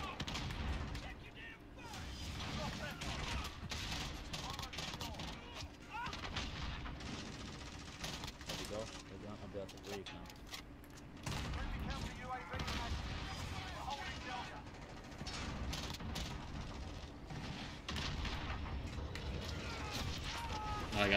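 Busy Modern Warfare Ground War multiplayer match with gunfire, blasts and automatic bursts layered into a dense, continuous battlefield din, while a player speaks over it.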